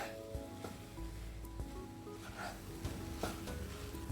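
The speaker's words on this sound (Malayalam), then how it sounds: "എന്നിട്ട് നന്നായി മിക്സ് ചെയ്തെടുക്കുക." Chicken fried rice with soy sauce is stirred in a pan, a soft, steady sizzle broken by scattered scrapes and clinks of the spoon, faint and without voices.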